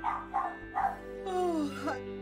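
A highly strung pet dog lets out a few short, sharp barks, then a long rising and falling whine and whimper, close by indoors with no voices.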